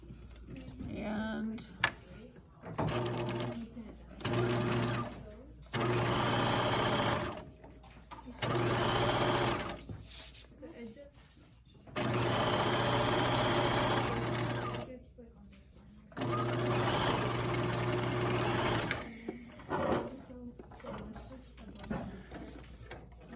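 A sewing machine stitching a seam on a romper, loud mechanical whirring in several long runs separated by pauses, close by, with a person talking in between.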